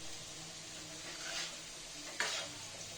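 Potatoes frying in a pan give a quiet, steady sizzle with soft stirring noises and one brief sharper scrape partway through.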